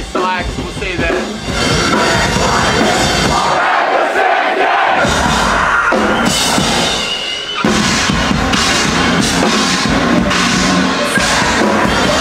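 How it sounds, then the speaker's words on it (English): Loud, dense crowd noise fills the space before a concert on an Australian tour, a steady roar of massed voices with shouts and cheers rising throughout, close and continuous. "The crowd is fucking already psyched."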